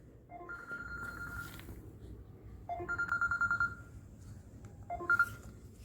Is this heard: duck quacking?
no